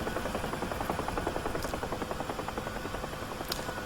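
Helicopter in the DCS flight simulator thrums with a steady, loud rotor chop and engine whine, continuous and close, with no voices.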